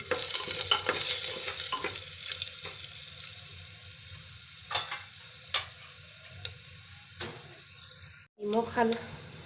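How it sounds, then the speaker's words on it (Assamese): Chickpea masala with salt and turmeric frying in a pan, with a steady close sizzle and repeated scraping stirs of a spoon. The sizzle briefly drops out near the end, then stirring resumes. "দিয়াৰ পাছত অলপ সময় মই ভাজি দিম"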